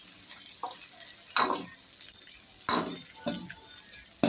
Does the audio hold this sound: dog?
no